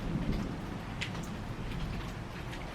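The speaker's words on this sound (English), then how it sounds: "it's been raining all day, but like now it sounds like it's really coming down" Heavy rain pours down outdoors as a steady, broad hiss that fills the whole clip. No voices are present, and a brief sharp patter sounds near the end.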